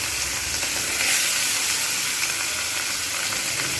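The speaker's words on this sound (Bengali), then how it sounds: "তেল দেখা যাচ্ছে পুরো ভালোভাবে গরম হয়েছে। এবার আমি এতে একটা একটা করে মাছগুলোকে ছেড়ে দেবো।" Catla fish pieces sizzle in hot oil, a loud, even hiss of frying that holds steady at close range with no talk.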